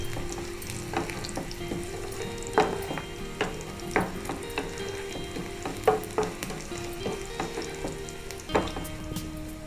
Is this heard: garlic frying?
yes